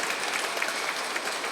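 Steady applause from an audience at a student honouring ceremony, a dense, even wash of many hands clapping throughout without a break.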